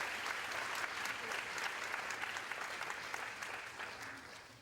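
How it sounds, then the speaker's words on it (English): Sustained round of audience applause at a senior women's state pageant in Missouri, a dense, steady wash of many hands clapping that fades slightly toward the end, with no speech over it. "Let's give the judges and the co-directors of the judges one more big round of applause"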